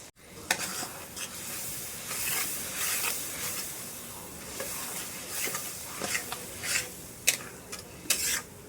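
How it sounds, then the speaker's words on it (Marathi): Ground masala paste with sesame and coconut sautéing in oil, a close, continuous sizzle broken by frequent scraping strokes of a spoon against the pan. "हा मसाला आपला छान तेल सुटेस तो आता आपण परतून घ्यायचं आहे"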